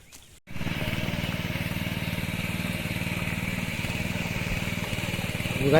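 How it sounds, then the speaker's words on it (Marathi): After a brief bump, a tractor engine chugs steadily nearby in a wet monsoon paddy field, with a rapid, even mechanical beat, running continuously and rising slightly at the end. "आज जमिनीला आता ट्रॅक्टर धरला ना इकडे"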